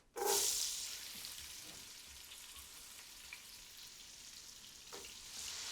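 A vegetable flavor base hits hot bacon fat in a pan for pea soup and sizzles loudly at first, then settles into a steady, close frying hiss with a few faint stirring scrapes and no talking.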